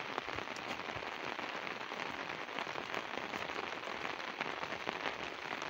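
Monsoon rain falls steadily on fields in Punjab, Pakistan, a constant close wash of hissing patter with no voices.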